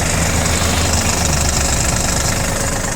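A Yanmar RS30 Japanese mini tractor engine runs close and loud in a steady, low, knocking diesel idle that holds for the whole stretch, with no speech over it.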